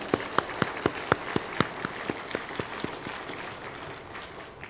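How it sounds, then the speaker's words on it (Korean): A church congregation claps for the choir at an Easter Sunday service, with sparse, separate claps ringing out at a steady pace in a reverberant hall. "우리 박수로 한번 영광 돌리겠습니다"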